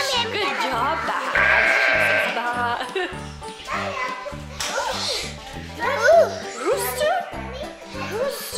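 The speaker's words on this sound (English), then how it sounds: "Yeah, it's a sheep." Sheep bleat on a farm among talking children and adults, with wavering calls mixed into the voices and a rhythmic background beat throughout.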